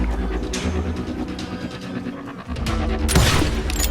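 Gunfire in Call of Juarez: Gunslinger on hard difficulty, a rapid rattle of shots over a rumbling background, with a loud, dense burst near the end.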